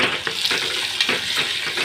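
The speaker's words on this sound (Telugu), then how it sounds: "ఎండు రొయ్యల్ని ఆయిల్లో ఫ్రై చేసుకోవాలండి" Dried shrimp crackling in hot oil in a pan, with a steady close sizzle and occasional stirring scrapes and pops throughout.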